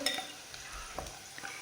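Garlic dropped into a hot pan for a night-time snack, frying with a soft, steady sizzle and occasional light stirring scrapes, fairly quiet and close, with no talking.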